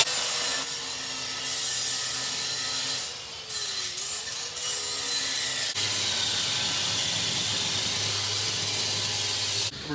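A tool cutting through the frame of a brand-new RZR side-by-side makes a steady, close grinding hiss with a low hum underneath, briefly wavering midway before resuming just as strongly.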